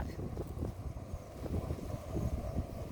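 Steady wind gusts across an open cassava field on a hot afternoon, a continuous broadband rush with low rumble and no talk.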